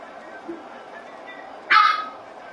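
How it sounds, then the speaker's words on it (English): A puppy loose in a sports broadcast studio gives one sharp, loud bark that stands out clearly above quiet background hum. "And we got a puppy loose in the studio again."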